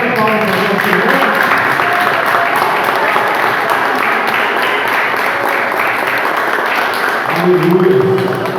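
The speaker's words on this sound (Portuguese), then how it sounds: "A salva de palmas para o Senhor." Sustained applause from a church congregation at a New Year service fills the space, a dense steady clatter of clapping with voices mixed in and some talking near the end.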